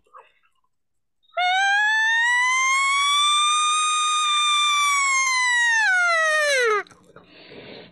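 A human voice imitates an elk cow and bull call: one long, sustained siren-like tone that holds steady for several seconds, then drops sharply and cuts off, heard clearly in a quiet setting.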